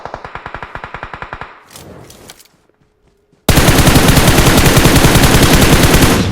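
Automatic gunfire in a video game: rapid rhythmic bursts, a short lull with quieter shots, then loud, sustained machine-gun fire close up, with no voices.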